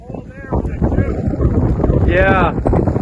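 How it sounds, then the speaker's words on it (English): Strong polar vortex wind buffeting a tarp-covered tent, a loud continuous roar with gusty flapping close to the microphone, a voice speaking over it. "The polar vortex just hit like 2 minutes ago"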